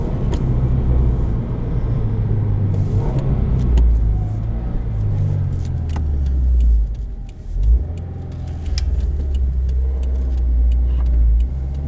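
A 2019 Subaru WRX with all-wheel drive accelerates through corners, its engine rumbling and rising in pitch in a continuous loud drone heard from inside the car, dipping briefly mid-way and building again, with no talking.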